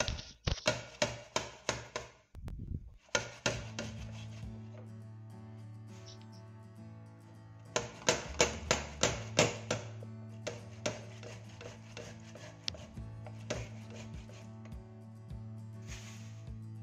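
Small tomato rubbed against a kitchen grater in quick rhythmic strokes, sharp and close, in several bursts separated by short pauses, over a low steady hum.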